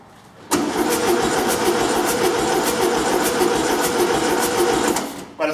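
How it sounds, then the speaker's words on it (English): A 1974 VW Beetle engine cranks over on its starter, a steady, loud, rhythmic churning that runs for about four and a half seconds without catching, then stops abruptly. "it's cranking anyway, so at least that's something"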